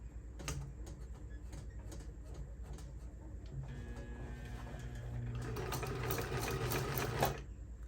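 A Singer vibrating-shuttle sewing machine stitches with a steady mechanical ticking and clatter, speeding up and growing louder toward the end before stopping abruptly.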